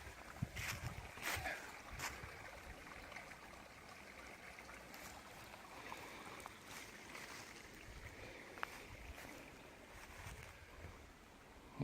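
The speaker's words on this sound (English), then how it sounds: "Little babbling brook." A little babbling brook in a forest flows quietly and steadily, with faint trickling and a few soft knocks and rustles nearby.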